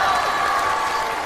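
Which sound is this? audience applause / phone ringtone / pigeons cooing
audience applause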